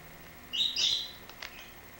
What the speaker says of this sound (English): Again, I apologize for the bird in the background.